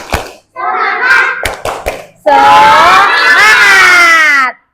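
Children clapping in a classroom: a short burst of a few sharp, close claps, then a loud group of young voices chanting together.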